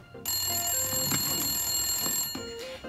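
A telephone rings in a toy salon, sounding as a continuous electronic trill with a high, steady tone that lasts most of the clip. Short pitched beeps can be heard at the start and near the end.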